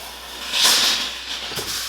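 A burst of hissing steam from a hot iron on wet cloth over a wooden M1 Garand rifle stock swells, fades, then flares briefly again, loud and close against a constant background hiss.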